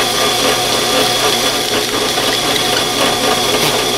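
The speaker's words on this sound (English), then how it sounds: "So again, I'll still hold this in place and drill these out." Power drill boring relief holes through the edge of a wooden router cutting template held by hand, with no backing block underneath; a steady, loud whirring drone runs continuously and close up with no talking.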